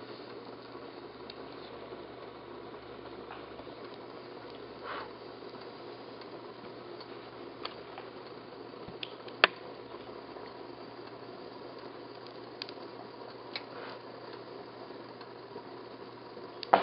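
A ThermoVape portable vaporizer drying out after cleaning gives a steady low sizzling hiss throughout with faint occasional clicks and ticks, a quiet continuous steaming sound close by.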